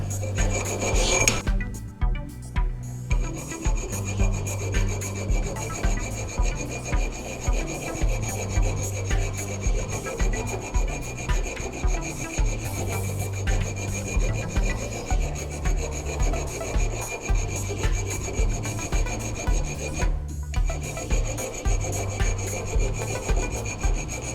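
A hand file rasps along the edge of a go-kart axle in long, regular back-and-forth strokes, close and steady, with a couple of brief pauses.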